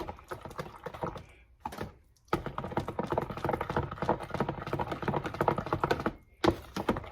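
Pecan pumpkin pie filling being mixed in a bowl, a dense run of quick clicking and tapping strokes that continues steadily with two brief pauses, close and moderately loud.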